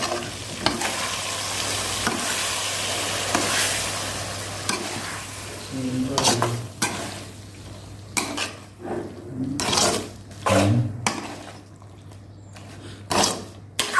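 Brinjal and field-bean curry scraped and stirred in a pan with a utensil, a steady soft sizzle giving way to louder irregular scraping and clinking strokes, close and with no voice.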